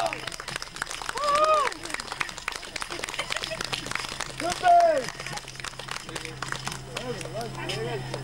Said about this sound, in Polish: Brawa, moi drodzy, duże brawa, z okrzykami nawet mogą być brawa.